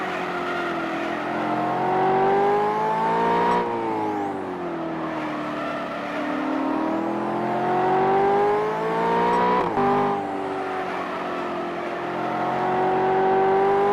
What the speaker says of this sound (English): that's the car I'm driving. As you heard, the sound changed